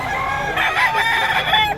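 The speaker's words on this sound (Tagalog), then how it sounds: "Ayun, may manok yan." A rooster crows once, loud and close, a drawn-out strained call with no talking over it.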